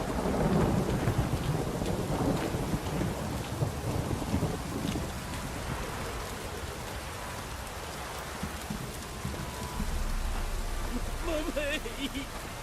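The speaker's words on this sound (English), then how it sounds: "This downpour's a bastard" A heavy downpour drums steadily in The Witcher 3, with low rolling thunder rumbling beneath the rain, loud and continuous; faint game music sits underneath and no one speaks.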